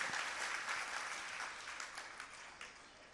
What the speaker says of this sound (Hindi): एक बार महिला मंडल के लिए जोरदार तालियां